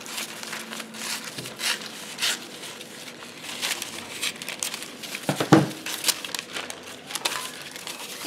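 Tim Holtz tissue paper is crinkled and handled for art journaling, giving close, loud rustling and crackling bursts that come in irregular handfuls for several seconds; no one speaks.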